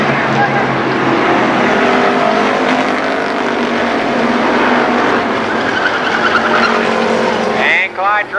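Car 75 spins out during a Firecracker Championship race at Columbus Motor Speedway in 1996, with loud engine roar and squealing tires under excited commentary, ending in a few short sharp chirps of tire noise.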